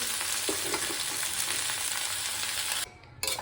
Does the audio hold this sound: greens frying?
yes